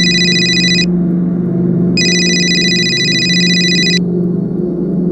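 An electronic phone ringtone sounds in two bursts, a bright warbling tone over a low steady hum.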